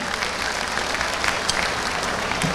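A crowd claps at an outdoor election rally, a dense, steady burst of applause loud and unbroken throughout.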